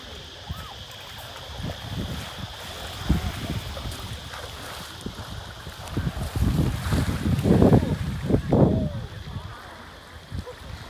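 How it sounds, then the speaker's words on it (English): A boat near a tropical island pier in Thailand, with wind buffeting the microphone, churning water and an engine rumbling that swells louder toward the middle before easing off. "There's our boat. It came back to get us."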